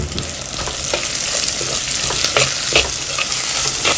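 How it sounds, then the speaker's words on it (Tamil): Chopped onions sizzle steadily in hot oil for a fish curry, with a constant close frying hiss and occasional scraping stirs throughout. "இதில் நான் வெட்டி வைக்கிற வெங்காயத்தை போடுவேன்."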